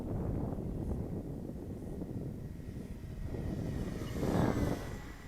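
An FMS PC-21 Pilatus RC model plane flies overhead, its steady engine drone heard at a distance through constant wind buffeting, swelling a little louder near the end.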